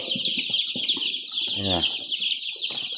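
Fifteen-day-old chicks cheeping in a dense, continuous chorus of high peeps, close and loud, with deeper clucking and a brief low call mixed in below.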